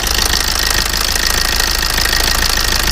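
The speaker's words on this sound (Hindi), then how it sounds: "तो ये मैं आ गया इंजन के पास और इसका साउंड सुनिएगा जी आप लोग" A Suzuki Dzire Swift car engine with a noise problem runs steadily up close, a continuous loud mechanical churn with a knocking, rattling edge throughout.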